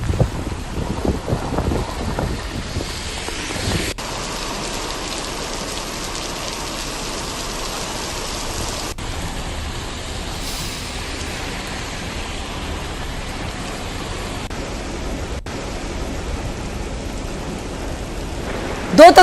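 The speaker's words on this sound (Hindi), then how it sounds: "यहां तेज हवाओं के साथ झमाझम बारिश हुई।" Heavy monsoon downpour driven by strong wind, a dense continuous roar of rain with gusty buffeting on the microphone, loud and steady throughout with a few abrupt cuts between shots.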